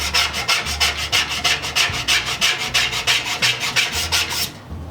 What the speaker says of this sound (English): As I scrape away the rust, my hope is fading fast.